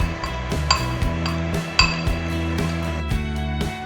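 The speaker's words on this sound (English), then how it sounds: "Now mix until combined." A spoon stirs mug cake batter of flour, sugar, baking soda and salt in a mug, making repeated clinks and scrapes against the ceramic in a steady rhythm, close and clear with no talking.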